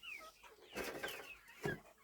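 Autumn-hatched chicks out with their mother hen make soft, faint clucks and chirps in a few short bursts, with quiet gaps between.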